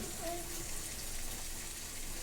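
Water pours steadily into a pan of drumstick kuzhambu, a soft continuous splashing rush that holds at an even level throughout.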